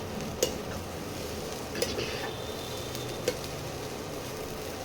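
A fried fish roe mixture is stirred in a pan over a constant sizzle, with a few sharp spatula taps against the metal spaced a second or so apart.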